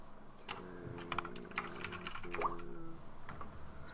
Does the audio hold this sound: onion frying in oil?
no